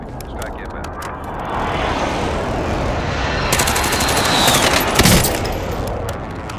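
Strafing fire support run in Call of Duty Modern Warfare, dense rattling gunfire over a constant roar with sharp louder bursts near the end, continuous and fairly close.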